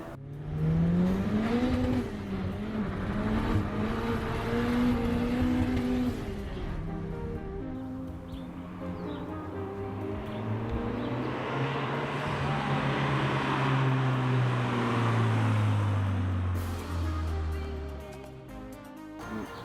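A Nissan Sentra with a swapped 2-liter four-cylinder SR20DET turbo engine, double overhead cam and 16 valves, droning loudly and close while its pitch climbs and falls through revs over about twenty seconds.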